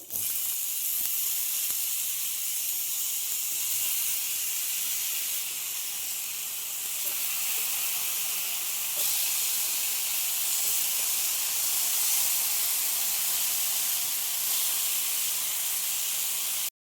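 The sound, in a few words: pineapple pieces sizzling on a hot tawa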